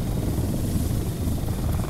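Helicopter in the video game Ghost Recon Wildlands, a loud continuous rotor thrum and engine drone filling the whole short stretch, close and steady, with no talk over it.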